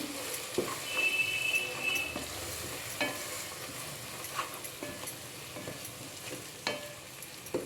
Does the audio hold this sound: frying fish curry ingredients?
yes